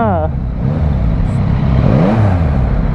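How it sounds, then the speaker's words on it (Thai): A Yamaha MT-09 three-cylinder motorcycle revs loudly and close, its engine pitch climbing and falling in strong sweeps through a continuous roar. "เสียงคือแบบเอาเรื่องนะ สียงสามสูบไม่ธรรมดานะเนี่ย"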